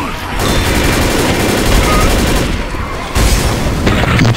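Loud, dense gunfire from Left 4 Dead fills the whole stretch in rapid overlapping bursts, with a short dip near the three-second mark before the shooting resumes, and a game voice is partly heard through it.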